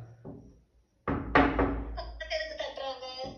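A few sharp knocks land on a hotel room door, the first faint and then a louder thudding cluster, followed by a person speaking nearby.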